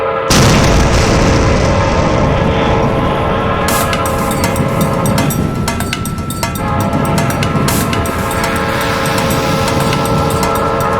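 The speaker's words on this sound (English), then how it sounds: "she throws it toward these barrels and it explodes" Barrels and a train track exploding as a sound effect: a sudden loud boom that swells into a sustained roaring rumble with metallic crackling and bursts throughout, with no talking.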